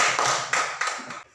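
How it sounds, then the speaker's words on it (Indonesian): A handful of sharp hand claps in a classroom during a teacher's teaching-performance lesson, several distinct close claps spaced irregularly over just over a second, with no voices. "Tepuk tangan dulu untuk kita semua."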